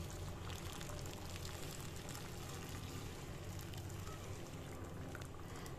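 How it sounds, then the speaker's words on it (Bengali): Hot water goes into a pan of cooking food, producing a steady rushing, bubbling wash of liquid that stays even and fairly quiet throughout, with no talking. "এই যে এবার আমি এর মধ্যে জল দিয়ে দিচ্ছি, গরম জলটা।"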